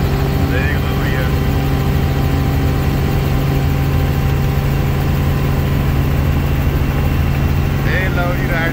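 A steady engine drone with a low, constant hum, heard from inside a small plane on the ground before a ride, while someone talks over it.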